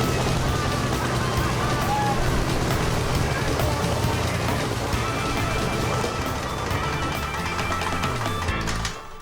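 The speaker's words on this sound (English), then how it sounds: "they've got a working engine and a lethally spinning propeller" A salvaged, shredded airplane's engine runs with its propeller spinning, a dense, loud, continuous roar and buzz that fills the whole clip before cutting down abruptly near the end.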